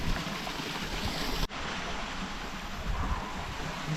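Clear stream water flowing in the Southern Arizona back country, a steady broadband rush that continues throughout with a brief dip partway, close and fairly loud with no voices.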